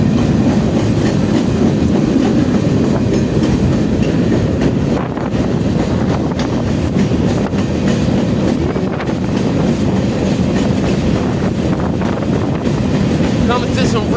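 A freight train pulling out after an overnight stop, bound from Colton toward Dunsmuir, California, rumbles loud and close with steady clickety-clack of wheels on rail and a continuous heavy roar throughout.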